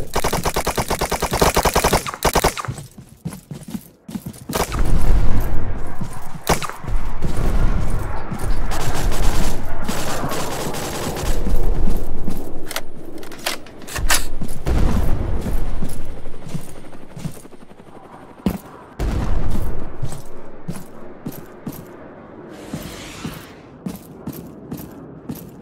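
Bursts of automatic gunfire and single shots in a VR war shooter, loud and rapid in clusters with short pauses between, continuing across the whole stretch with little talk.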